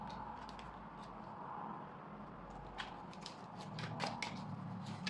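Tarot cards shuffled by hand close up, a steady soft papery riffling and sliding that runs throughout with brief crisp snaps, no talk over it.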